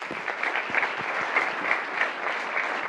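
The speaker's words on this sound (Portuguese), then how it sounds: "eu pedia o vosso aplauso para o CEO da Raise, o José Maria Rego." Conference audience applauding a company CEO as he is introduced, a steady, moderately loud spell of many hands clapping with no speech.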